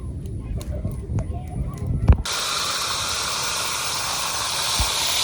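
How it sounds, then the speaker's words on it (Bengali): Bay leaves drop into hot oil in a pan at an outdoor village picnic cookout, setting off a sudden, steady, loud sizzle that runs to the end after a couple of seconds of muffled background noise. "তেজপাতা ফোড়ন দিলাম"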